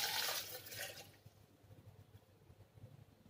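A glass of water splashes and pours briefly into a blender jar with mango pulp at the start, a liquid gush that fades within a second into quiet low rumbling.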